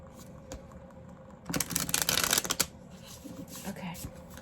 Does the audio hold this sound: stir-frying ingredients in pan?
no